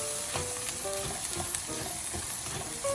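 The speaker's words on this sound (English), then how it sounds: "I'm going to add in 1/3 of rice wine here just to deglaze the pan here" Rice wine poured into a hot pan of sausage herb stuffing to deglaze it, giving a steady, close sizzle with scraping and stirring clicks throughout, no voices.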